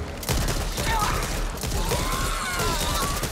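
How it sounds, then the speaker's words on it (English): Rapid gunfire aimed at a barrel in the zombie shooter Back 4 Blood, dense bursts of shots with mechanical clatter, loud and close throughout. "I'm trying to shoot the barrel in here"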